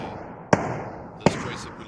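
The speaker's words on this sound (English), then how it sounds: "lots of fighting going on, lots of gunfire" Gunfire in a multiplayer video game match, two sharp loud shots about three-quarters of a second apart over a dense, continuous game soundscape.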